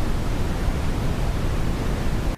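A continuous broadband roaring hiss, like rushing noise, steady throughout before cutting off abruptly at the end.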